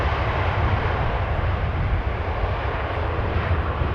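A jet airliner landing at Amsterdam Schiphol with idle thrust reversers gives a loud, steady broadband engine roar that holds without a break throughout.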